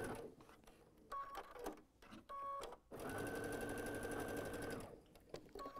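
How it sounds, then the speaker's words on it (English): Sewing machine stitching quilt pieces for a small card-trick-pattern mini quilt, running in several short bursts and then one long steady run, close and loud with brief pauses between. "you can just assembly line sew these"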